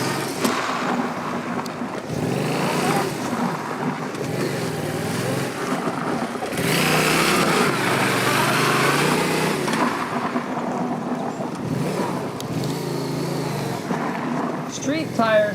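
A Yamaha FZ-07 motorcycle on street tires skids across gravel, with a loud, continuous engine roar and wind rush that swell and fade in long surges over the whole stretch.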